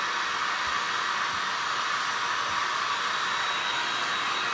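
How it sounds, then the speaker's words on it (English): A hair dryer blows steadily on wet paint during a glass and resin beach art project, a loud, even, continuous whoosh of air with no talk, holding constant throughout. "I'm just gonna hit this with my dryer so that we can go ahead and just keep moving"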